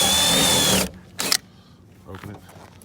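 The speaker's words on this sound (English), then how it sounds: "run your drill bit through here because we're going to have to open it up with the Christmas tree bit" A drill bit bores through a car body panel on a Neon during a wing install. A loud, high whine runs for just under a second and then stops, followed by brief clatter and handling noises.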